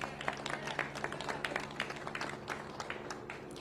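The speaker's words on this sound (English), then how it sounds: "a big round of applause." Crowd applause for a county sheriff at a press briefing after a shooting, a scattered round of clapping from a modest group with individual claps standing out, heard at a moderate distance.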